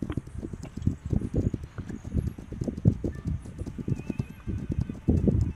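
Horses gallop with rapid, continuous hoofbeats and give occasional whinnies during a battle in the video game This Land Is My Land.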